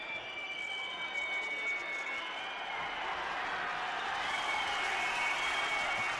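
An indoor EuroLeague Women basketball crowd reacts to a foul call with sustained murmuring, whistling and scattered applause, a steady wash of noise that swells slightly toward the end.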